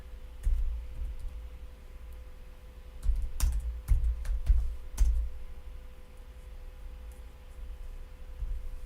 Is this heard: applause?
no